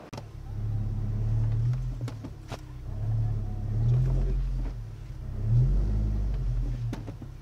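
A VW Mk6 GTI pulls away and drives off, its engine note rising and falling in several gear-by-gear surges heard from inside the car, a moderate steady rumble with no talking.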